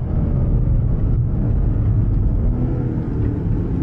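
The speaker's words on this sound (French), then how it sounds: "les choses qu'on entend, c'est le moteur, l'admission e-Venturi" A CS car's engine and e-Venturi intake give off a steady, loud, low rumbling drone while driving, continuous and unbroken throughout.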